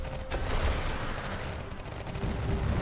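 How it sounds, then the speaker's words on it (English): Missiles launched in the Iron Marines mobile strategy game on iOS, heard as a dense burst of rapid explosive firing and whooshing blasts that continues steadily at moderate volume with no talking. "Wait, you're shooting missiles,"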